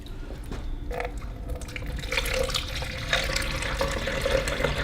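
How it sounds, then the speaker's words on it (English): Water runs from a tap into a small container for mixing an indoor plant nutrient solution, a steady splashing fill that grows slightly fuller, with faint drips and clinks near the start. "So let me get some water here."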